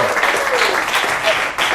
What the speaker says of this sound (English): give Curtis another big round of applause.